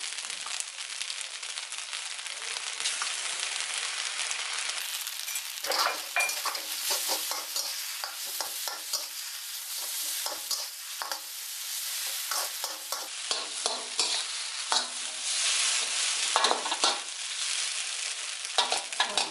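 Marinated pork suki being stir-fried dry in a pan, a steady loud sizzle with constant scraping and stirring strokes running throughout, no voices.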